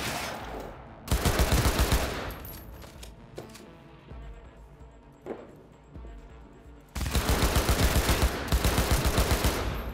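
Gunfire in the video game Cyberpunk: dense bursts of automatic shots in two loud volleys at the start and end, with scattered single shots and game noise between them, no talk.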